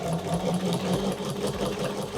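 A sewing machine stitching a quilt block runs steadily with a fast, even mechanical whir and rhythmic needle ticking, close and continuous, with no voices.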